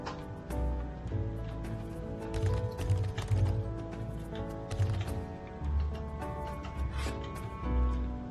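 Horse hooves clip-clop in the video game Hard To Be A God, a steady rhythmic clatter under a continuous background of game music and ambience.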